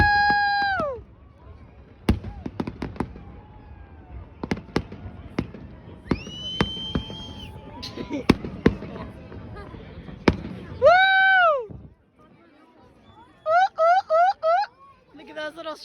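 Canada Day fireworks over downtown Edmonton, sharp booms and crackling bursts going off one after another at irregular intervals, with cheering and talk from nearby spectators, and a few whistling rockets near the end.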